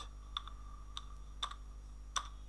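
A few sharp, isolated keystrokes on a computer keyboard, spaced unevenly over a couple of seconds, close and fairly quiet against a steady low hum.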